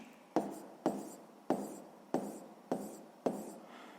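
A pen writes a multiplication of 16 by 12 on paper for a sixth-grade maths exercise, six short scratchy strokes landing in an even rhythm, close and clear with no talking.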